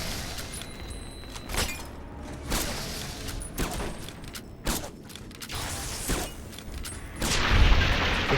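Gunfire in the video game Fallout New Vegas: a scattered series of sharp shots and booms with mechanical clatter, fairly loud and close, heavier toward the end, with no talking.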